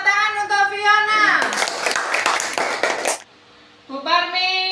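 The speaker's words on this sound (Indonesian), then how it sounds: "Tepuk tangan untuk Fiona." Primary-school children clap together for a classmate in class, a loud, dense burst lasting under two seconds between stretches of a speaking voice.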